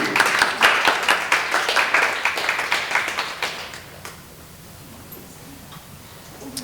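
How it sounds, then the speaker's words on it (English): Applause at an Australian education partnership event, lively and fairly close for about four seconds before it thins out to scattered claps and then near quiet. "you should give them a round of applause as well"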